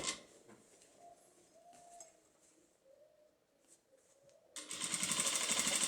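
A sewing machine topstitches a fabric bag at the width of the presser foot. Quiet handling sounds come first, then the machine starts and runs with a loud, steady, rapid stitching rattle to the end.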